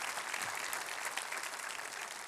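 Church congregation applauding during a Spanish-language service: dense, steady clapping from a crowd, fairly faint and distant, sustained throughout the short stretch.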